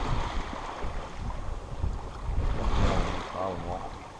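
A sailboat under sail off northern Sardinia near Maddalena, with wind rushing across the microphone and water washing along the hull, steady and fairly loud throughout.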